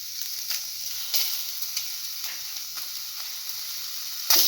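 Tomato pieces and red chili sautéing in a pan give a steady, close sizzle and hiss, broken by a few soft stirring strokes.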